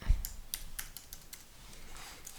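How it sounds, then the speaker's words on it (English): Quick bursts of typing on a computer keyboard, a short run of close, crisp key clicks that trails off toward the end. "Let's type delivered,"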